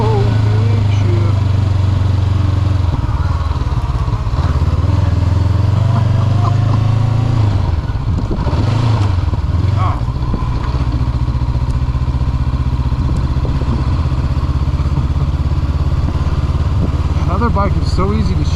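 A Honda CB500F motorcycle ridden and shifted through its gears, a loud steady engine drone with gear changes rising and falling throughout, heard under wind noise.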